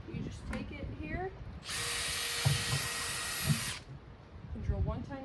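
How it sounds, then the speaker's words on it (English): A power drill whines steadily for about two seconds while boring one tiny hole in the bottom of a watering container, with a person talking before and after. "drill one tiny little hole in the bottom"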